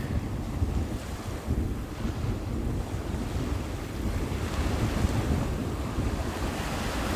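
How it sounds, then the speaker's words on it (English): Strong wind gusts across the microphone outdoors, a loud continuous roar and buffet with no voices. "It's just too windy. It's crazy windy over here."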